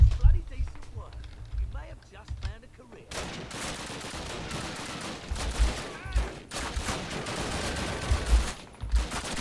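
Gunfire in the original Call of Duty campaign, with bursts of shots and rapid fire after a quieter opening, under excited talk from a player.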